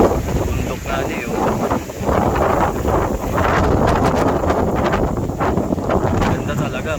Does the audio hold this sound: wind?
yes